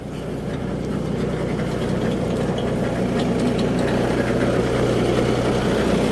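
A used Japanese Kubota CA300S combine harvester's engine idles at close range in Ubon Ratana, Khon Kaen, a loud, steady low rumble that holds even throughout with no voices.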